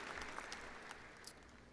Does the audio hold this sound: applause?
yes